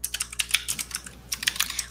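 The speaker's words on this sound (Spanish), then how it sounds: "mi teclado mecánico. Suena un montón." A mechanical keyboard being typed on, giving rapid, bright, irregular key clicks up close, with a brief pause midway before the clattering resumes.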